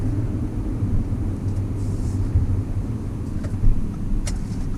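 A supercharged 3.0T Audi A6 Quattro sedan accelerates hard, its engine a loud, steady rumbling roar that holds for several seconds with no talk over it.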